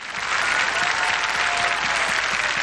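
A studio audience at a children's dance competition show gives loud, sustained applause for the choreographers, with dense steady clapping throughout and no talk.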